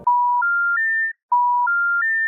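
An emergency alert tone sounds on a phone, a loud electronic three-step rising beep sequence played twice with a short pause between, clean and alone.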